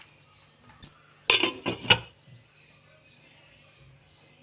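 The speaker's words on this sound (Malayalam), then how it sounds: "ഇട്ട് കൊടുത്ത് നമുക്ക് നല്ല പോലെ ഒന്ന് ഇളക്കി അടച്ചത് വേകാനായിട്ട് വെക്കാം" Kashmiri chilli powder being stirred into a mango curry in a pot: a short burst of metal spoon scraping and clinking against the pot, fairly close, between quieter kitchen sounds.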